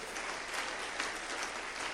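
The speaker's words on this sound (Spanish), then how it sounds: "Dale un aplauso más fuerte al Señor" A church congregation applauding steadily, a dense continuous wash of many hands clapping at even loudness for the whole stretch, with no voices rising above it.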